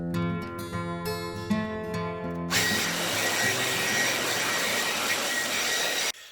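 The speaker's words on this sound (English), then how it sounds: "So I'm going to give it a blow dry" A hair dryer blows on hair freshly dyed purple with a Schwarzkopf box dye, a steady loud whoosh that starts after a buzzing tone, runs about three and a half seconds and cuts off abruptly.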